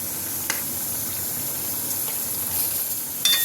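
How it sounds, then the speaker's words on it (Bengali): Mango pieces fry in a pan for chutney, a steady moderate sizzle with a few brief clinks and spatters scattered through, and a slightly louder burst near the end. "আমটাকে একটু ভাজা ভাজা করে নিয়ে"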